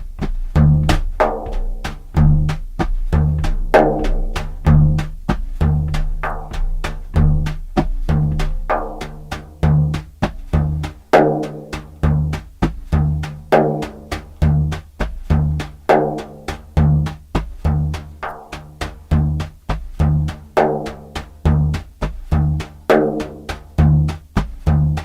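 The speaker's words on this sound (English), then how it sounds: "And then we have the 2 paradiddles and the groove." A hand drum plays a steady groove of double strokes and paradiddles, with sharp, evenly spaced hits and resonant low tones repeating throughout, loud and close with no talking.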